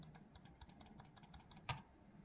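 Sharp, crisp clicks from an original Logitech computer mouse with a stiff, high click pressure, pressed repeatedly in a quick, fairly even rhythm close to the microphone, with one louder click near the end.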